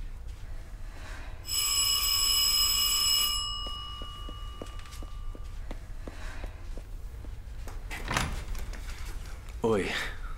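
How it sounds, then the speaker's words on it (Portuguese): A doorbell rings with a bright, sustained electronic chime lasting about two seconds, followed by footsteps and faint clicks in a room where people talk. "Por que tocou a campainha?"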